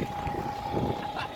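Steady wind blowing outdoors at a crowded event, a constant rushing roar buffeting the microphone, with a faint steady tone underneath and no talk.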